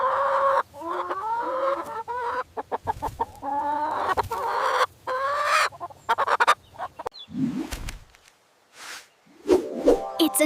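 A chicken clucking close by in a string of rapid, choppy clucks and short squawks, with a few brief pauses and some lower rustling sounds near the end.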